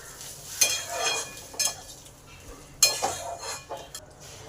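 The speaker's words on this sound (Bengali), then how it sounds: "এই চালটাকে একটু ভালো করে ভেজে নেব" Rice coated in ghee, ginger and turmeric is fried and stirred in a pot for basanti pulao, giving a soft sizzle broken by several scraping spoon strokes and light clinks against the pan, with no one talking.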